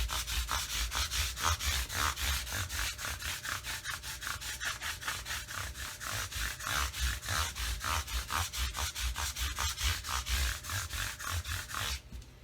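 Sandpaper rubs back and forth over the body of an early-1980s Burny Les Paul guitar in quick, even rasping strokes, close and steady for about twelve seconds, then stops, with no talking.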